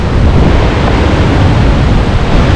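Strong near-hurricane wind blows along a deserted seaside embankment, a loud, unbroken roar of gusts buffeting the microphone over surf noise, with no let-up across the stretch.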